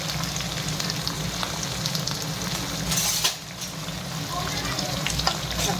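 Onions and tomatoes with green chillies and capsicum sizzle steadily in hot oil for homemade chilli chicken, a continuous close frying hiss with a brief stir-like dip midway.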